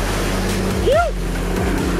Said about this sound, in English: Big Duramax coming through.